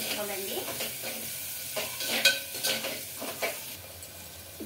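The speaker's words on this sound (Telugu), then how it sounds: "ఇవి బాగా ఆనియన్స్ బాగా గోల్డెన్ కలర్ వచ్చేసి ఫ్రై చేసుకోవాలండి." Onions with green chilies frying in a pan for chicken bagara rice, a steady close sizzle broken by several distinct scraping stirs of a spoon against the pan.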